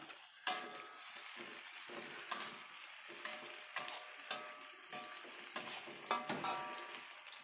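Onion frying in a pan while an egg-free noodle dish is cooked, a continuous close sizzle broken by repeated stirring scrapes and clacks of a utensil against the pan.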